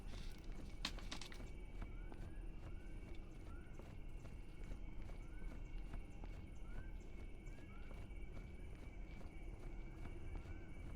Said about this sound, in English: Now there's something walking behind me making noise.